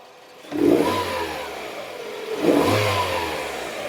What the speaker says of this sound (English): Now let's hit the throttle.